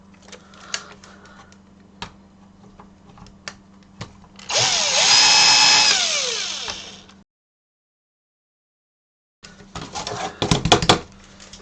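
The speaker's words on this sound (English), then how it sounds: "So I'm going to chamfer those holes off a little bit." A power drill chamfers burred holes in a metal panel, giving a single sustained whining run of about three seconds at close range, with scattered small clicks and handling knocks before it and a burst of rattling afterward.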